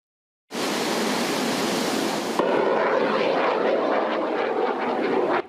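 An OH-58D tactical helicopter fires a Hellfire missile during an army exercise on a sandy coastal range in Pingtung, Taiwan. A loud, dense roaring rush bursts in suddenly and holds steady for several seconds, with no talk.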